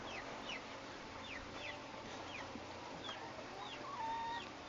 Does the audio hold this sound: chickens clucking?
yes